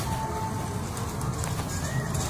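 A Ferozpuri pigeon coos softly in a rooftop pigeon club setting, low rhythmic murmurs repeating over a quiet outdoor background.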